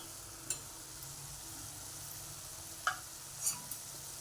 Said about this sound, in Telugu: ఇలా 5 minutes కుక్ అయిన తర్వాత ఒకసారి కలుపుకోవాలండి